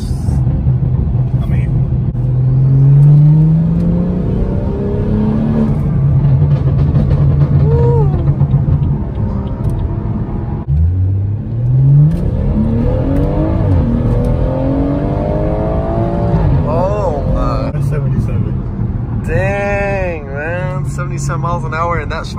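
Modded BMW 440i M-Sport F32 coupe accelerating through the gears, a loud engine rumble rising in pitch with each gear and breaking at each shift, heard from inside with people talking over it.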